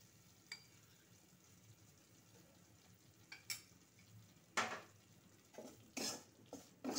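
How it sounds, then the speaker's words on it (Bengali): Semolina and rice flour being dry-fried in ghee in a pan over low gas, with soft sizzling broken by a few sharp spoon-against-pan scrapes and stirring clatters, near and alone without talk. "চালের গুঁড়োটাও সুজির সঙ্গে একটু ভালো করে ভেজে নিচ্ছি।"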